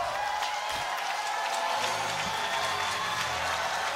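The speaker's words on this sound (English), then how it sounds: "The roar of the crowd for the next pinch hitter for Ole Miss" Steady crowd roar and cheering at a college baseball game at Ole Miss, a distant wash of many voices that holds level throughout with faint low rumbles beneath.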